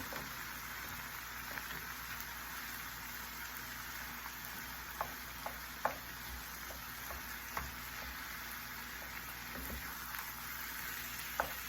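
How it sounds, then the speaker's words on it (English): Italian sausage, hamburger meat and peppers sizzle softly in a pan, a faint steady crackle broken by occasional light taps and scrapes of a stirring utensil. No voices are heard. "Then I'm gonna mix it all around until the sausage, hamburger meat, peppers get done."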